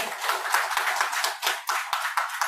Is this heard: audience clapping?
yes